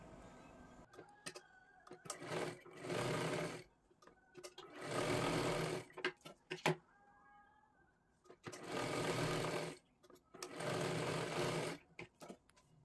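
A sewing machine double-stitches the joined pieces of a katori blouse in several quick bursts of rapid mechanical chatter, each a second or so long, separated by quiet pauses and small handling clicks.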